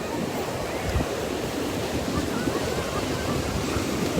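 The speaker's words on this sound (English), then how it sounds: "Yeah, I can get closer to the waves for you, Joseph." Ocean waves wash steadily onto a shore, a loud continuous surf roar with some wind buffeting the microphone and no clear breaks in the sound.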